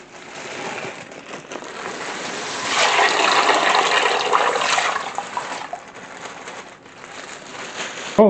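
A cooking pot for lima bean soup fills with running tap water, a steady gushing pour that swells in the middle and then eases back to a thinner trickle, heard up close with no talking.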